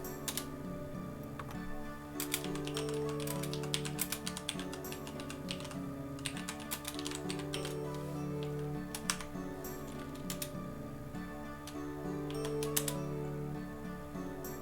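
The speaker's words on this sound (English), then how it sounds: "I'm typing out the name right now." Quick, uneven keystrokes clatter on a computer keyboard close to the mic, a busy run of clicks and taps lasting the whole stretch over a faint steady background hum, with no talking.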